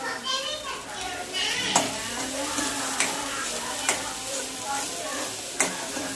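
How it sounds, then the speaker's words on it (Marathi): Masala stirred and fried in a pan for a Marathi khar vang (spicy brinjal) dish, a steady close sizzle with periodic sharp scraping strokes of a spoon against the pan, with faint background voices. "सगळं मसाला मिक्स झाला पाहिजे।"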